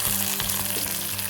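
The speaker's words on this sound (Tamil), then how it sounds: "நல்லா ப்ரௌன் ஆகிற வரைக்கும் இதை நம்ம வறுத்து எடுத்துக்க போகிறோம்" Sliced garlic sizzles steadily in sesame oil in a pan, a loud, even crackling hiss with faint stirring scrapes and no voices.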